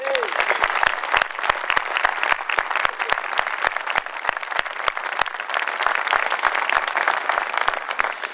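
A large audience at Governor Haslam's inauguration applauds Governor Bredesen, a loud, close, dense burst of clapping with sharp individual claps standing out, sustained evenly throughout.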